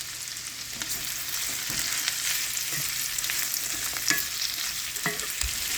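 Julienned potato skins fry in a skillet with a steady hiss and sizzle. Scattered clinks and scrapes from utensils sound throughout, and a few sharper spatters stand out.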